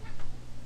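A cat lets out a short, strained meow over a low steady hum, fairly faint and brief.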